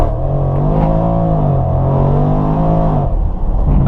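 A 2016 Range Rover SVR with a 5.0-litre V8 revs hard on launch, the engine note sweeping up and down in loud, close roars before settling near the end.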